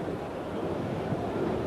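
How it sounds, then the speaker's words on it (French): Gusty Mistral wind buffets the microphone at a 1980 French league football match between Marseille and Saint-Étienne, a steady, loud rumbling roar that fills the whole moment with no clear voices. "Et malgré le vent"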